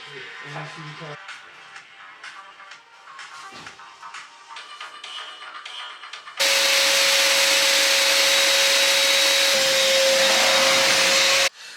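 Household vacuum cleaner switches on partway through and runs loud and steady for several seconds close by, with a sharp whine over a broad roar, after quieter shuffling and handling sounds; people talk in the room.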